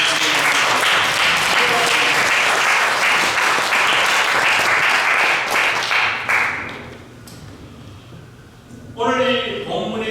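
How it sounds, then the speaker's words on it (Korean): A church congregation at a Sunday service claps together in loud, sustained applause that gradually fades away, followed by someone speaking. "축복하면서 박수로 한번 우리"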